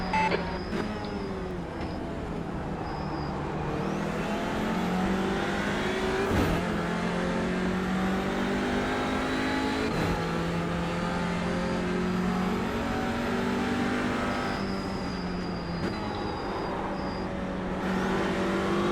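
Audi RS3 TCR race car in iRacing at Summit Point Raceway, its engine droning loud and steady throughout with harmonic revs rising and falling through gear shifts, close and unbroken.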